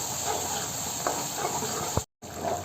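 Turmeric and coriander powder sautéing for a mutton curry cooked in a pressure cooker, a close, steady hissing sizzle with a faint stir tick, briefly cutting out near the end.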